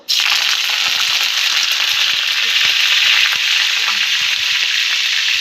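Curry leaves frying in hot oil in a kadai, a loud, dense crackling sizzle that bursts in at once and carries on steadily with scattered pops, nothing else over it.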